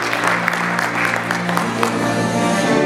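Applause from a gala audience welcoming a culture department head to the stage, a dense steady clatter of clapping hands with crowd noise, continuous and fairly loud throughout.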